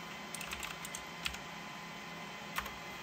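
A command is typed on a keyboard during Cisco 2800 router password recovery: a run of light, quick key clicks followed by two firmer isolated presses, close-miked over steady background hiss with a high electronic whine, and no speech.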